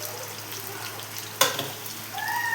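Paneer pieces fry in a pan with a soft, continuous sizzle, broken midway by a single sharp clink of a utensil.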